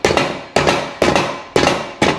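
Hammer blows land on a BMW M5 E39 car part being knocked free, five sharp, loud metallic strikes spaced about half a second apart in an even rhythm, close up with no talking.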